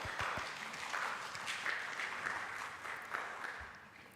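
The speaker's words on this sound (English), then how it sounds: "So let's give them a round of applause." An audience at a tech talk event applauds the speakers. Steady, fairly faint clapping from many people runs throughout, heard from a distance in the room.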